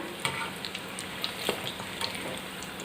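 Beef cutlets deep-frying in hot oil, giving a continuous close bubbling sizzle with scattered sharp pops and crackles, moderately quiet and steady throughout.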